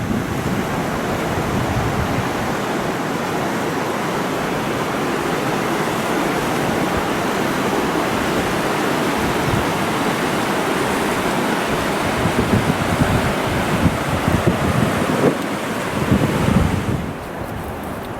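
A river rushes a quarter to half mile downstream of Kootenai Falls, a constant loud roar of churning water that stays unbroken throughout, with some wind buffeting the microphone.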